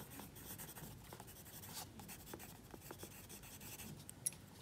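A pen scratches on paper while a diagram is drawn, faint close-up strokes and scribbles in an irregular rhythm, with no talking.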